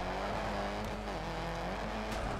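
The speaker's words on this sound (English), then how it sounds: "Tap of the handbrake." Rally car engine in the Colin McRae Dirt 2 video game, steady and loud with a dip in revs as the handbrake is tapped for a turn, with a faint burst of gravel or tire noise.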